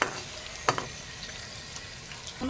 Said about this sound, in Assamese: কুন্দুলি ভাজি